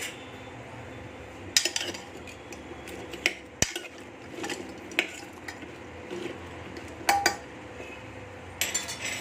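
Spoon scraping and clinking against a bowl as dough ingredients with salt are mixed for moringa parathas, irregular strokes up close, with a faint background hiss.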